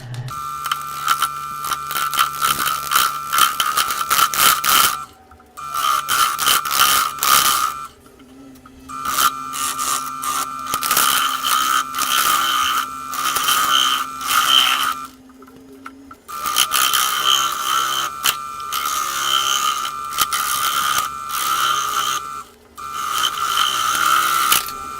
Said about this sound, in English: I'm gonna start with my bowl gouge here.